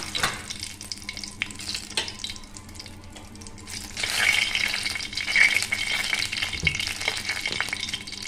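Dry red chillies fry in hot oil for an Assamese fish curry, a steady close sizzle and crackle with occasional clinks of stirring, growing louder partway through.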